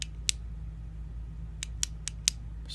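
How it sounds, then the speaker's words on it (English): Crisp clicks from the tail switch of an Ultrafire XML-T6 tactical flashlight: one pair early, then a quicker run of four, each short and close against a quiet background hum. "if I click on and click off, as you can see, it goes into strobe"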